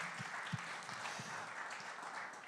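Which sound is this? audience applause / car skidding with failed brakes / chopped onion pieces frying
audience applause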